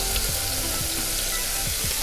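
Butter sizzling in a saucepan with a crushed garlic clove and a sprig of thyme, a steady close crackling fry with no voices.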